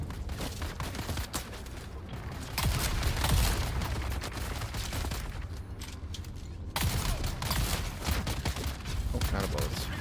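Rapid gunfire rattles in the Dune: Arrakis video game, dense, loud bursts of shots that run almost without a break, with a brief thinning before the firing surges again.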